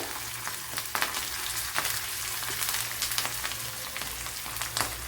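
Garlic cloves sizzle and crackle in hot oil for a homemade sambar, a steady close frying hiss with scattered sharp pops and spatters throughout.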